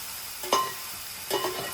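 Chicken pieces cooking down in a pan for a coconut-milk chicken curry, a steady close sizzle with two brief louder bursts of spattering or stirring.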